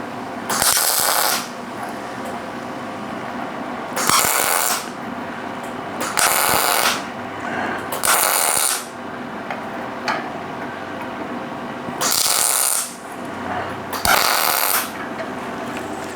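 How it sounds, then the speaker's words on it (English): MIG tack welds laid on a steel V block, about six short crackling bursts of one to a second each, spaced a couple of seconds apart with quiet gaps between them, close and fairly loud. "I'm just tacking hot, and then the next tack will be on top of that tack, about 1/4 of the way up that tack"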